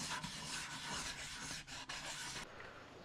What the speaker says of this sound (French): J'ai également poncé les bordures des coffrets pour casser les angles.